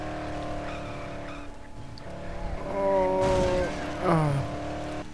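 A car in the video game Dead Island revs with a steady engine drone, then its tires squeal and skid loudly near the end.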